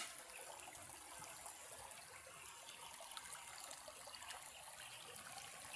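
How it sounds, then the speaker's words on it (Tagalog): Creek water flowing down from Mount Matutum past damaged riprap banks, a steady, even rushing and trickling wash that fills the scene without pause, no voices over it. "Dumadaloy ang tubig mula sa bundok ng Mount Matutum."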